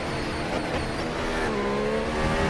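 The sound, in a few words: race car engine during overtake, racing video game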